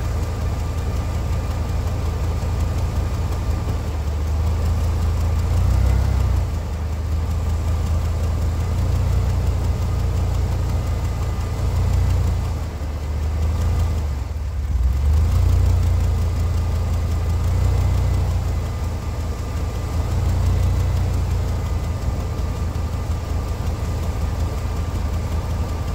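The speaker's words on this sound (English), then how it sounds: "Come on, start. She is a sweet run motor." A car engine idles steadily in a garage during a build with new parts and cylinder head work, a low rumbling drone with slight rhythmic pulsing that stays loud and even for the whole stretch.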